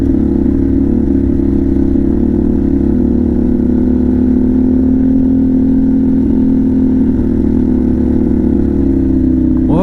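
A Harley-Davidson Pan America motorcycle engine holding a steady, loud high idle up close, a constant drone with a slight shift near the end.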